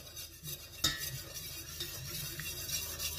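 A utensil scrapes steadily around the sides of a saucepan of pastry cream, made as part of a homemade frangipane galette, with continuous close stirring and one sharper clink, and no talking.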